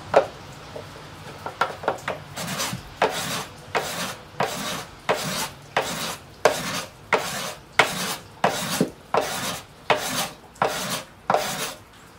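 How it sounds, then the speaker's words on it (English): Rhythmic rasping strokes of scraping and sanding on a wooden guitar body, about a dozen firm back-and-forth passes in a steady cadence, close and loud with no talking. "Keep scraping it, keep sanding it. You want the guitar smooth."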